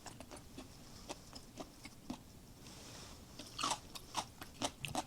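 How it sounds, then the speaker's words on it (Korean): Crisp, close crunching of stir-fried cucumber, with a steady series of quiet bites that grow louder and snappier toward the end. "오이를 볶아서 그런지 수분이 더 빠져나와서 더 오독오독한 식감을 즐길 수 있는 것 같아요."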